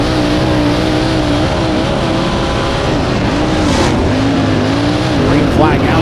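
Race cars, including a Wedgewood Doran 98 on a DRC chassis, roar around the Lawrenceburg track as the green flag flies, with loud continuous engine drone rising and falling as cars pass close by, under the announcer's commentary.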